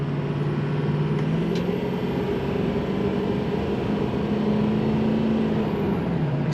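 A 2006 Ford F-250 Lariat Super Duty Crew Cab pickup accelerates, its engine giving a steady low rumble and drone that climbs slightly in pitch, heard from inside the cab with no talking.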